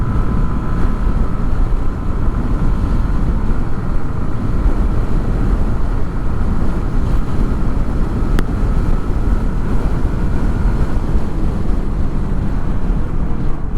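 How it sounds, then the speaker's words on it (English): A TVS Ntorq 150 scooter cruising at speed on a highway, a steady engine drone buried under heavy rushing wind noise, constant and close throughout. "this is what the all new TVS Ntorq can do on the highways"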